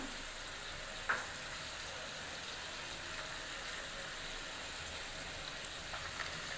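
Potatoes with turmeric and salt frying in oil in a kadai, a quiet, steady sizzle with a couple of brief sharp crackles or stirring clicks.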